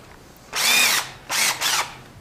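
A power drill fitted with a Malco pole barn steel cutting tool runs in three bursts, one long whine followed by two shorter ones, loud and close with no talking.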